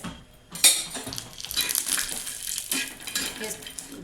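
Grated coconut being roasted in oil in a pan over a raised gas flame, with scraping and clinking of a metal spoon against the pan in irregular strokes, close and alone.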